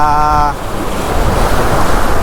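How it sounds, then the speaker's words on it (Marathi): Waves churn on a flooded river under strong wind, a loud, steady roar of surging water with wind buffeting the microphone close by. "लाटा भरपूर यायला लागल्या"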